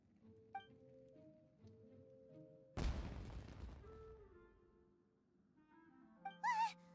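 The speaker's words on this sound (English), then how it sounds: "Was that an explosion? It sounded like fireworks." A fireworks explosion goes off in the Genshin Impact video game, a sudden loud broadband blast that decays over about a second over background game music, followed later by a brief bright chime.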